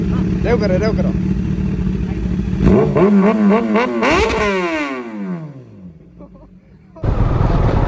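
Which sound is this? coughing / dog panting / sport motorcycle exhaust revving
sport motorcycle exhaust revving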